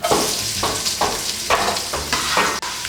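Onions sizzling in olive oil in a pot for green turkey chili, a loud close frying hiss broken by rhythmic stirring scrapes about every half second.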